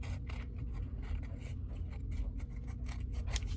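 Scissors snip through paper scraps for a mixed-media collage, the blades gummy with glue residue, giving steady close crisp cutting and scraping sounds with no talk.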